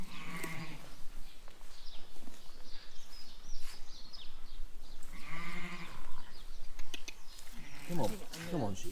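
Sheep bleating on a farm as they are driven out of the barn and across a road to a field, several wavering bleats rising near and far, with a voice calling among them.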